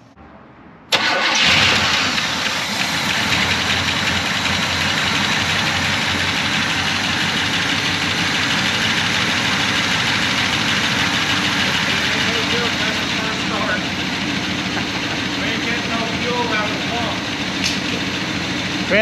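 A 1984 Chevy C10 truck engine that had sat for 20 years catches after the carburetor is primed, then runs loud and steady at a rough idle, with voices talking over it.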